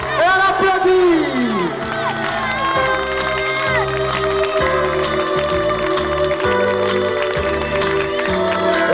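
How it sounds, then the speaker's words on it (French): A concert audience at a 1995 show in Bastia, Corsica, cheers, whoops and claps continuously, loud and close, over live music that keeps playing throughout. "Encore plus fort. Et on applaudit."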